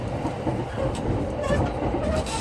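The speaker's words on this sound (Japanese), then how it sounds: "This is the y a m a n o t Line train bound for Shibuya and Shinagawa." JR Yamanote Line train running through Shinjuku Station, a steady low rumble with faint rail clatter, heard from inside the car as a continuous near hum with a faint voice in the background.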